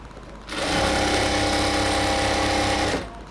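A sewing machine stitches a seam in salwar pant fabric, leaving a half-inch allowance, in one loud, steady whirring run of about two and a half seconds that starts and stops abruptly.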